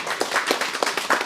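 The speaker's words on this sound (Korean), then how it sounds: "자, 우리 박수 한번." Audience clapping together at an outdoor field meeting of a Nonsan strawberry growers' association, a brief, dense, evenly sustained burst of many hands.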